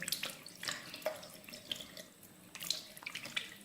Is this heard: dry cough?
no